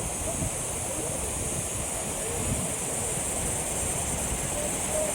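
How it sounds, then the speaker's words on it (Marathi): Flowing river water at Bhandardara, a steady broad rushing wash heard close, with wind buffeting the microphone throughout. "किती जवळ पाणी आणि इतकं मस्त वाहतं पाणी"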